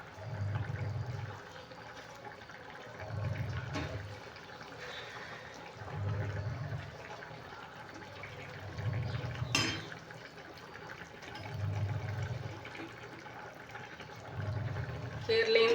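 Water is poured into a cooking pot of lentils in several separate splashing bursts at a steady rhythm, close and fairly soft, with a voice speaking throughout.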